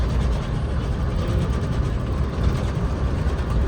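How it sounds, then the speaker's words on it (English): Steady low rumble and broadband rushing noise of a moving train from Toronto to Montreal, heard from inside a carriage, continuous and fairly loud with no voices. "je suis dans le train là"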